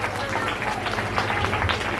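Enthusiastic audience applause with dense, steady clapping from a crowd, lasting throughout at an even, fairly loud level with no pause.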